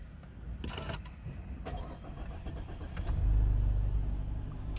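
Mazda CX-3 engine starting via its start-stop system, a brief crank and then a low steady idle rumble after a few seconds of quiet cabin clicks and rustle.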